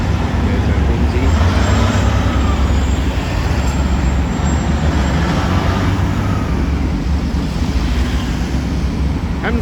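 Heavy roadside traffic at Parramatta, Sydney, with a truck passing among other vehicles: a steady, loud broadband roar with deep low rumble that holds throughout, with no clear pauses.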